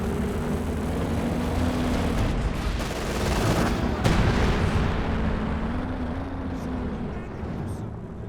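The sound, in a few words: heavy mortar firing in Company of Heroes 2 video game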